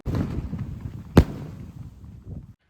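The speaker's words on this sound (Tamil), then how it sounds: "ஒரு வாட்டி பத்து வச்சோம் அப்படின்னா மூணு கிராக்லிங் வந்து மேலே வரும்" A firework from a Christmas crackers combo pack goes off with a single sharp, loud bang partway through, set against lighter crackling and rustle that fades out.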